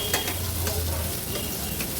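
Mushi fish pieces shallow-fry in a pan for an Agri-Koli style fish thali, a close, steady crackling sizzle with a few sharper spatters and a low hum fading partway through.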